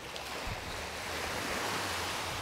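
Ocean surf washing onto a beach at high tide at a Cayo Coco resort in Cuba, a steady broad roar of waves with low rumbling swells and wind noise, continuous and fairly faint, with no talking.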